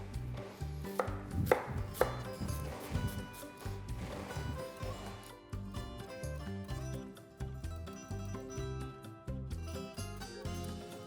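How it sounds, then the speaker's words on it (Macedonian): Rapid, rhythmic knife chops through onion on a cutting board, close and crisp, with quick bursts of cuts repeating steadily over background music and no speech. "правилото на 3 прста за сецкање кромит"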